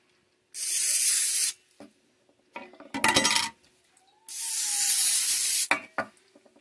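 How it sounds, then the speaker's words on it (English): Two long, loud hissing sprays from an aerosol can onto a cutter, close by, separated by metallic clinks and rattling handling noises. "need to also spray my cutter"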